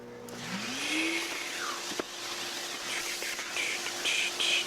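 Giraffe Tools retractable vacuum sucking up sawdust piles in a shop: a steady motor whine that rises in pitch at start-up, with rattly pickup bursts and brief sucking surges toward the end.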